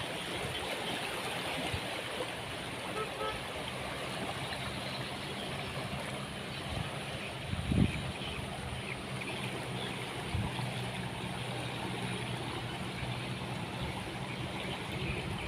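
The rising Palu river flows strongly between the Lalove bridge and the Maisanunu suspension bridge in Sigi, a steady, broad rushing roar heard from a distance, with one brief thud partway through.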